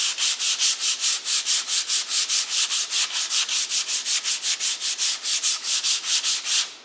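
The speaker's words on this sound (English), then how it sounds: "So I would start my sanding with the 100 grit." Folded 100 grit sandpaper rubs over wood along the grain in steady, even back-and-forth strokes, a loud close rasping rhythm of about four strokes per second with no talking.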